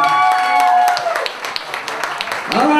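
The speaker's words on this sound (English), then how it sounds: "let's go ahead and give her a big round of applause" Wedding guests clapping for a bride amid a reception, the applause rising under a loud announcer's voice and music, then fading as speech returns.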